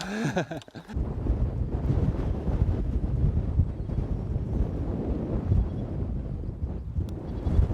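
Steady wind on a golf course buffets the microphone with a low, continuous rumble throughout, preceded by a brief burst of other sound at the start.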